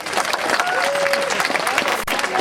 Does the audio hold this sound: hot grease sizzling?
no